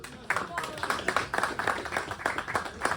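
Applause at a winter mountain bike marathon awards ceremony in Otwock, rhythmic clapping from a gathered crowd with a voice speaking over it.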